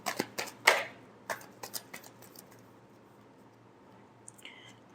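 Tarot cards shuffled by hand give a few quick, papery riffling bursts near the start, then taper off into faint soft ticks and near-silence.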